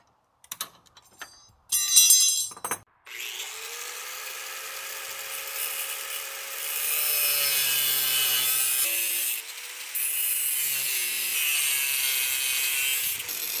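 A high-speed corded angle grinder fitted with a cutting blade spins up after a few clunks and handling noises, then cuts an old diamond blade with a sustained bright, gritty whine that shifts in pitch and pressure, loud and close.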